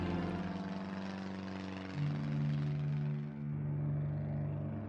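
Navy warplanes flying overhead during a bombing raid, a loud continuous droning engine roar with steady propeller hum that swells midway, heard alone.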